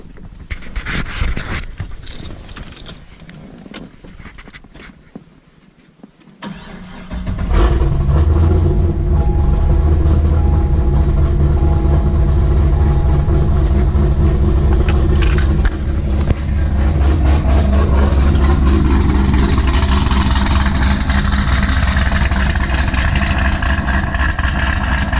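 A 2006 Corvette Z06 engine with an aggressive cam cranks and fires up, then settles into a loud, lumpy idle that keeps rumbling steadily.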